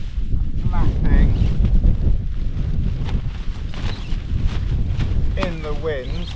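Strong wind buffets the microphone on open Dartmoor moorland, gusting roughly and continuously, with fabric noises from a Hilleberg Soulo tent mixed into the rumble and brief voice-like sounds over it.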